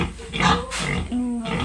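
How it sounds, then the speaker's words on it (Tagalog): Close pig squeals and grunts, a few harsh calls in quick succession over a noisy background. "ang alaga naming baboy"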